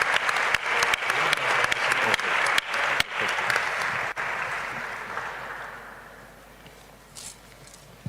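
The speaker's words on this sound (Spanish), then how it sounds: "Nuestro agradecimiento y un aplauso," Audience applause in a hall at a political speech event in Mexico, a dense burst of clapping that holds strongly for several seconds, then thins and fades out toward the end.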